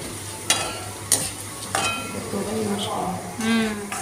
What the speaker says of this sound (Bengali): একটুক্ষণ ভাজা হোক